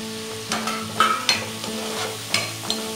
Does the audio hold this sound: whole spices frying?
yes